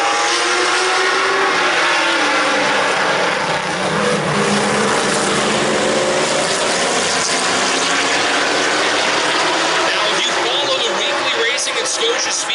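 Race cars start a heat race at a speedway, a loud, dense roar of engines that swells and shifts in pitch as the pack accelerates past, with a commentator talking throughout.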